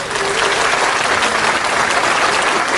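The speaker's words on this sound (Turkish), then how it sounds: "Kendisine büyük bir alkış" A big round of applause for a technical desk operator at a late-night Turkish talk show fills the space, steady dense clapping from a small studio crowd, loud and continuous throughout.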